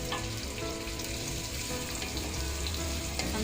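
Onions frying in a pan of oil while cooking moong dal, a steady, close, dense sizzle that holds evenly throughout with no talking.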